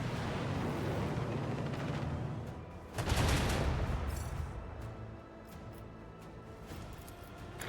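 Heavy gunfire and blasts roar through a battle in the video game Warhammer 40k: Rogue Trader, a dense rumbling volley that swells into a louder burst midway and then fades to lighter firing.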